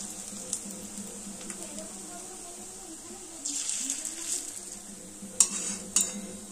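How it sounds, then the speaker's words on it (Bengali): Oil sizzles steadily around prawn fritters deep frying over a low flame, with a few soft scrapes and clinks of a utensil near the end; no one speaks. "গ্যাসের ফ্লেমটা লোতে করে দিয়ে আস্তে আস্তে পকোড়াগুলো ভাজতে হবে"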